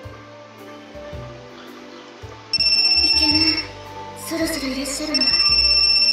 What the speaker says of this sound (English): I'm stopping the alarm.